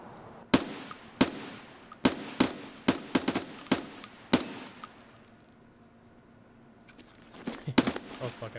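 Sharp single gunshots in the tactical shooter Escape From Tarkov, a dozen or so irregular cracks spaced out over several seconds, then a lull and a short renewed cluster, mid-distance against a quiet background.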